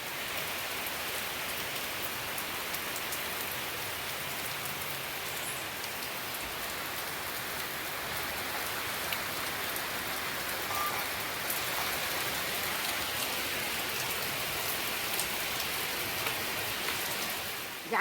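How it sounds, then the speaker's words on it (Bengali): Evening monsoon rain falls outside a window, a steady wash of drops on surfaces heard from indoors, continuous and moderately loud for the whole stretch with no talking. "সন্ধ্যারে বৃষ্টি হচ্ছে"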